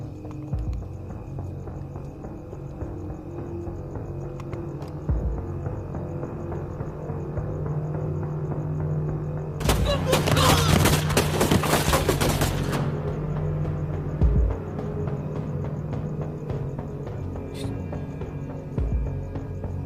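Burst of dense rapid gunfire in a film shootout with Naxalites in a village, a loud sustained volley of about three seconds breaking through a steady background score, with scattered single shots after.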